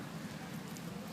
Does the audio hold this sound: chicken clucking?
no